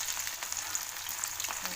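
Idli pieces deep frying in hot oil, a steady broadband crackle and hiss held close and fairly even throughout, with no voices.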